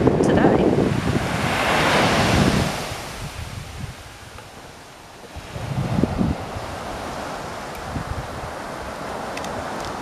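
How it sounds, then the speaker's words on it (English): Big sea waves crash and roll in on the UK east coast at Huttoft Bank, a loud broad surge of surf that swells and recedes twice, with steady wind buffeting the microphone throughout. "The waves are really big today."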